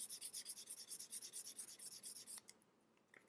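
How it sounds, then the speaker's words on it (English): Rhythmic back-and-forth rasping of rough sandpaper on a leather edge, steady quick up-and-down strokes for a couple of seconds, then stopping abruptly; close and fairly quiet. "the rough sandpaper here to smoothen it down"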